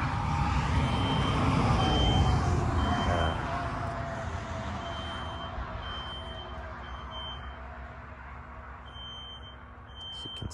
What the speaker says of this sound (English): You probably can hear the smoke detector going off.